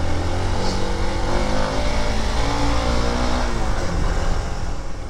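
Hero Xpulse Rally Edition motorcycle engine running and revving off-road, a steady loud mid-pitched drone held close throughout with no talk over it.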